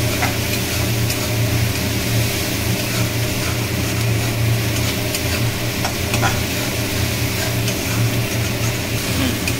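Masala is stirred and fried in oil for egg tadka, a dense, loud, unbroken sizzle with a low steady rumble beneath and faint scraping of the spoon, no one talking.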